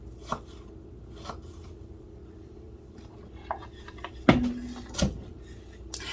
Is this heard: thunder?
no